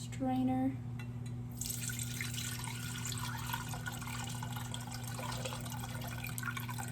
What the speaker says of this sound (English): I'm gonna pour it through a strainer.